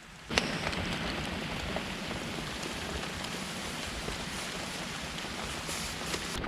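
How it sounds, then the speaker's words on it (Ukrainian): Heavy rain drums on a makeshift shelter during a jig fishing trip in Kyiv, a loud, close, continuous downpour with a sharp knock near the start and a few brief taps later, no talk. "Отож, перечекаємо дощик і далі підемо шукати рибу."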